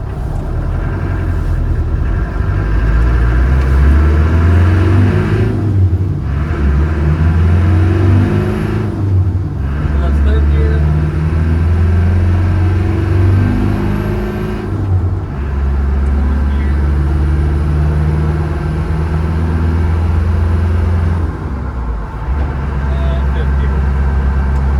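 A right-hand-drive 1986 Land Rover 90 with a 200Tdi diesel engine driving in traffic and accelerating through the gears, loud low engine drone rising and dropping at each shift, with talk over it.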